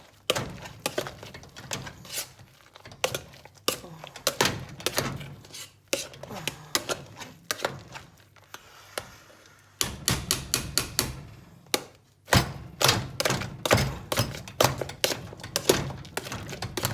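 Butter being stirred into boiled potatoes in a pot with a utensil, giving a rapid series of knocks and scrapes against the pot, irregular and fairly close, with brief pauses between bursts of stirring.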